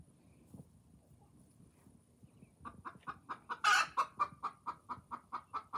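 Groninger Meeuw hens and roosters, a flock of 21 hens and 4 roosters, cluck in a rhythmic run of repeated calls after a quiet start, with one louder squawk midway, close by.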